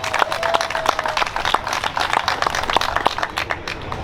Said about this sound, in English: you guys give yourself a round of applause